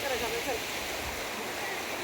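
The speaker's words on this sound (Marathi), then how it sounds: "जवळूनच अशी नदी वाहते, छोटीशीच नदी आहे." Small river flowing beside a Shiva temple, a continuous broadband rush of water with a faint voice briefly heard at the start.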